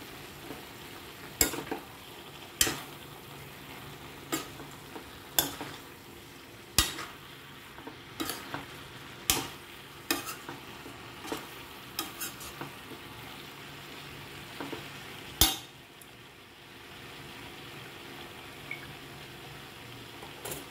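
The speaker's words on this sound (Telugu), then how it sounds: "కొంచెం సాల్ట్, అలాగే కొంచెం కోరియండర్ లీవ్స్ వేసి వేయించుకోవాలి." Radish, cauliflower and capsicum curry frying with salt and coriander leaves, a low steady sizzle broken by regular sharp scrapes and knocks of a spatula against the pan.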